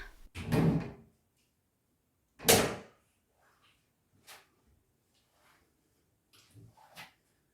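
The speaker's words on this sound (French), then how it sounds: "Il y a une porte. On tente? Elle s'ouvre." Door in the LILY video game: two distinct heavy creaking, thudding bursts from a door moving, followed by faint clicks and softer knocks in a quiet room.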